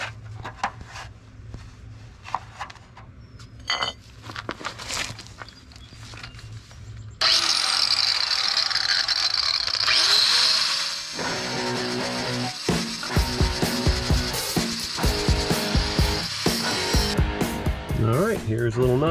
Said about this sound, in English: So we'll just cut a nice two and a quarter inch gap, and we'll just fold that over.